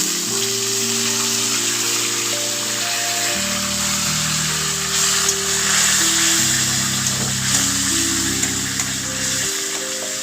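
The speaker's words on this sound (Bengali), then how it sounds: "হালকা একটু ভেজে নেব এই পেস্টটা।" Tomato, ginger and green chili paste frying in hot oil, a dense continuous sizzle alongside steady tonal background hum, close up and without speech.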